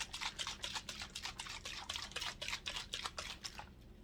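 A nearly empty bottle of braid spray is shaken by hand, its leftover liquid sloshing in quick, regular rattling bursts, close and fairly quiet, with no talk.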